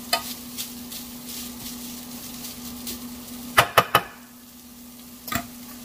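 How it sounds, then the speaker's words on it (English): Pork sausage crumbles sizzle softly in a pan, a low steady fry punctuated by a quick cluster of sharp scrapes and knocks from stirring, then another clack a moment later. "the pork sausage crumbles. I'm just gonna add it all in. Mix it around."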